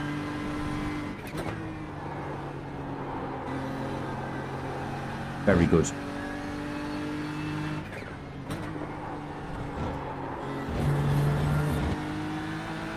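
A race car in the iRacing sim gives a steady engine drone with gear changes and short revving bursts, under talk from two people coaching each other.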